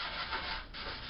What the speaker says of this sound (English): You can go ahead and start sanding.